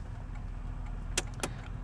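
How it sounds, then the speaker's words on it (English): Two sharp, evenly spaced clicks from the turn signal of an all-original 1978 Chevrolet Corvette L82, close and distinct over a steady low rumble. "Turn signals."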